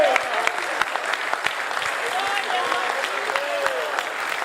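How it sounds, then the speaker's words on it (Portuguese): A church congregation at a Portuguese-language worship service claps in praise, a dense, continuous crowd applause with a preacher's voice speaking over it. "Pode aplaudir ao Senhor Jesus."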